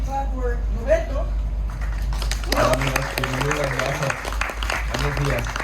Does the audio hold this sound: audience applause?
yes